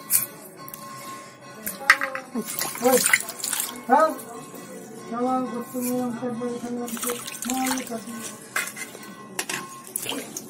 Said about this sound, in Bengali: বাড়িটার মধ্যে একটু জল ঢেলে নিলাম